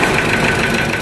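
A Ford Ranger with a D6 diesel engine at a 4x4 repair shop runs rough, suspected of a nozzle fault, giving a loud, close idle with a steady, uneven knocking pulse and no one talking over it.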